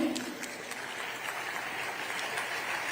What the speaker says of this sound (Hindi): हमारे अतिथियों के आगमन पर आपकी तालियों की गड़गड़ाहट की आवाज हम तक पहुंचनी चाहिए